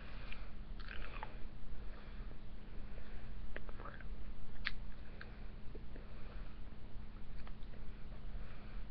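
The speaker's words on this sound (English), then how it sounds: "I'm sorry if you can hear my smacking." Someone chews a lemon-flavoured British sweet close to the mic, with quiet crunching, wet mouth smacks and small clicks over a low steady hum.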